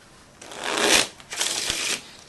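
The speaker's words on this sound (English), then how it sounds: "And you're going to take that whole deck and you're going to shuffle it." A deck of game cards is shuffled close up in two quick riffling bursts, crisp and papery, with a brief pause between them.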